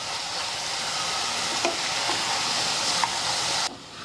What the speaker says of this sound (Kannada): ಈಗ ಇದು ಒಗ್ಗರಣೆಗೆಲ್ಲ ಚಲೋ ಹೊತ್ತಿಗೆ ಮಿಕ್ಸ್ ಮಾಡ್ಕೊಂಡಿನಿ